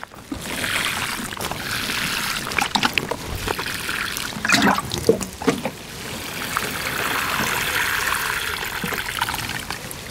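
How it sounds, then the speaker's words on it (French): Water is poured over a freshly potted pepper plant, trickling and splashing into the soil in uneven bursts, heard up close with no talk. "On arrose sérieusement."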